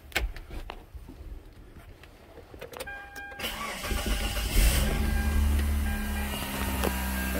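A Mitsubishi car engine, freshly fitted with a new timing belt and running without accessory belts, cranks after a few clicks and catches, settling into a steady, fairly loud idle that grows stronger toward the end.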